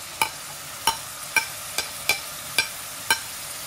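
Onions and tomato stirred and fried in a pan for egg curry, with a spoon scraping and clinking against the pan in about seven sharp, evenly spaced strokes over a soft steady sizzle.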